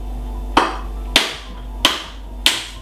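Four sharp, evenly spaced cracks as a coconut shell is struck open in a home kitchen for coconut milk, each hit loud and close with a brief ringing tail over a steady low hum.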